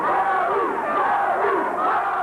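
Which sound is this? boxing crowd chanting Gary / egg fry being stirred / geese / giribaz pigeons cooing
boxing crowd chanting Gary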